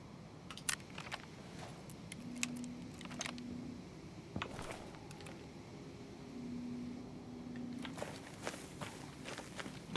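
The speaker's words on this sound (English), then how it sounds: "Definitely sounds like some footsteps above us." Footsteps sound overhead in a video game: muffled thuds and scuffs scattered at an irregular pace over a low steady hum, fairly quiet and indistinct.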